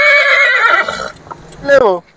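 A horse at a livestock market in Yeola whinnies loudly near the end, a rising then falling neigh that follows a stretch of clear nearby talk.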